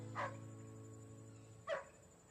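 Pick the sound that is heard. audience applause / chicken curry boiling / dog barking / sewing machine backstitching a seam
dog barking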